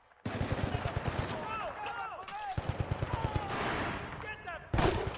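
Rapid bursts of gunfire from a low-recoil gun in the Battlefield Bad Company 2 campaign, close and loud, with short pauses between volleys and a heavier blast near the end, among busy game noise and voices.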